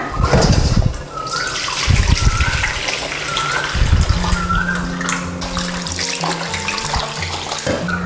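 Water poured off boiled pork bones, then the bones rinsed under a running tap: loud gushing and splashing with clatters, then a steady stream of water.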